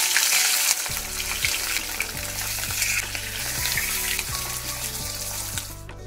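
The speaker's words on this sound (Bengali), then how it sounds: "এবার কয়েক পিস মাছ ভাজতে বসাচ্ছি" Several pieces of fish frying in a pan, a steady close sizzle with a low hum and occasional clinks and water-like trickles, no voices.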